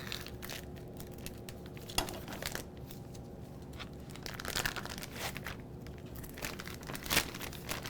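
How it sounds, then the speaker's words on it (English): Wrapped beef fillet that has rested overnight being cut open: close crinkling and tearing of the wrapping with soft crunchy snips, steady and irregular, with no talk. "We're gonna cut it open to unveil it."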